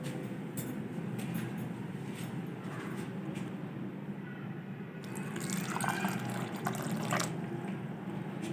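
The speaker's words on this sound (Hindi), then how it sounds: "तो अब हम पानी डालकर बैटर तैयार कर लेंगे" Water trickles and pours steadily into a bowl of thick semolina pakora batter, a soft continuous splashing that grows a bit brighter partway through.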